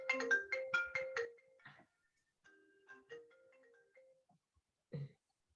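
A mobile phone ringtone going off in a quiet room, a bright melodic electronic tune of quick notes that trails off into softer tones, with a short thump near the end.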